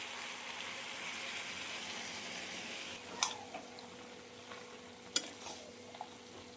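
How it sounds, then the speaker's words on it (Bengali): A spoon stirs curry in a pan right after milk is poured in, giving a soft, steady simmering hiss with a few brief scraping clinks against the pan, close and faint. "দুধটাকে দিয়ে ভালোভাবে নাড়াচাড়া করে নিয়ে"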